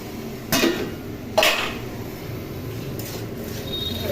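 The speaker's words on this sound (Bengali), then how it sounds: "এখন আমার অনেক বাসন হয়ে গেছে এবারে এটা বসিয়ে দিয়ে মেজে নেবো" Metal pots and dishes knock and clink a few times at a kitchen sink, brief sharp sounds against a quiet background hiss.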